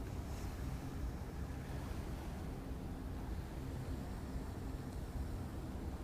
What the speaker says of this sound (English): some boats are going by. It's creating some waves